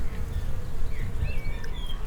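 Bees buzz steadily and softly nearby, a continuous low insect drone with a few brief higher whines passing by.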